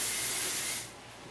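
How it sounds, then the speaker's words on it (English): A beauty product spray bottle gives one close hissing burst that lasts just under a second, then cuts off to quiet. "So then I spray."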